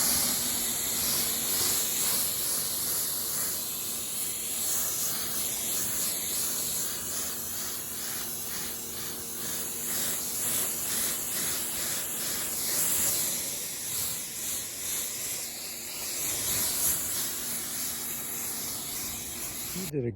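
Water spray rinsing wax residue off a car's painted body during ceramic coating prep, a steady continuous hiss that runs close and loud for the whole stretch, with faint talk beneath it.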